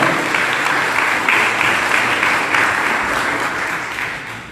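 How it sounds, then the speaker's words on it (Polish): Steady, loud applause from an audience at a ceremony awarding the POT 2019 certificate to the historic water tower in Kościan, sustained evenly and tapering slightly toward the end. "Brawa."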